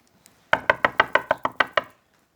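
Eight quick, evenly spaced knocks rap on a door, close and crisp, then stop, with no talk.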